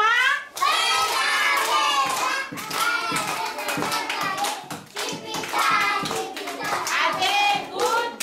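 Children's voices ring out in chanting and calling while hands clap rhythmically to praise a classmate in a school classroom, the claps mixed under the lively young voices throughout.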